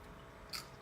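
Single quick crunchy bite into a raw sugar snap pea, a brief crisp snap close to the mouth against quiet background, with no talking.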